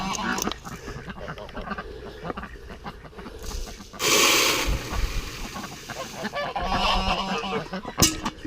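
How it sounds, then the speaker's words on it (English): Domestic geese honk loudly among poultry, with a sharp burst of calls in the middle and further honks near the end, plus some splashing and a faint voice in the background. "You is the daftest goose going."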